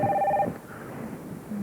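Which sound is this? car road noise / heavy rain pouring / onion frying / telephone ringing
telephone ringing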